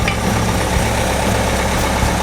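A decades-old barn-find engine idles steadily up close, fed fuel directly, its loud low rumble with a faint knocking pulse running without a break.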